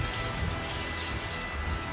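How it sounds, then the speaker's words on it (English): Loud, dense crash of a car smashing through a hideout wall in a cartoon, a continuous noisy burst of breaking debris and shattering filling the whole short stretch. "the night cruiser smashes through the wall of Boogeyman's hideout"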